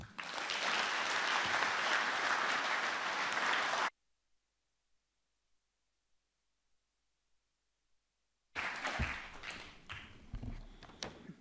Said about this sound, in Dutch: Dames en heren, graag uw aandacht en uw applaus